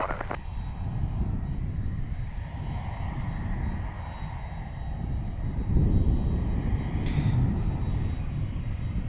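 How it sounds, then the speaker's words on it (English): A FedEx Airbus A300 takes off from Cincinnati's CVG cargo hub, a steady, fairly distant jet roar that swells slightly midway through. "Looks like we got a FedEx Airbus A300 getting ready to depart."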